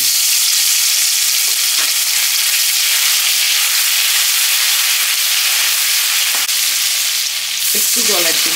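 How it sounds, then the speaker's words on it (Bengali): Garlic paste hits hot oil for restaurant-style chilli fish, setting off a loud, steady, continuous sizzle that fills the whole stretch, with a few light utensil knocks and no talking. "এবার স্টার্ট করছি। প্রথমে আমি রসুন বাটাটা দিয়ে দিচ্ছি।"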